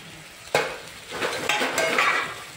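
Curry leaves fry in a pan, a sharp clatter of a spoon against the metal followed by bursts of crackling sizzle and light scraping strokes.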